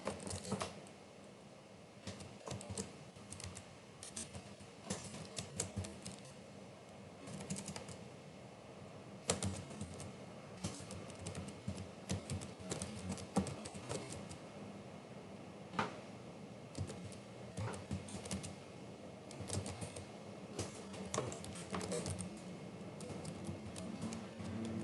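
A command being typed on a computer keyboard: steady, dense key clicking runs throughout at a quiet, close level, with a few sharper taps and no talk.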